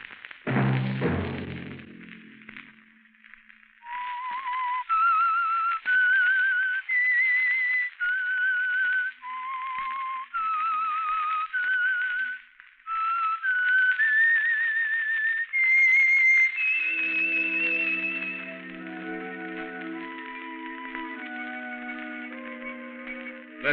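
A clear whistled melody of sustained, wavering notes, preceded by a low thump and later joined by soft backing tones, the theme of a 1951 radio drama.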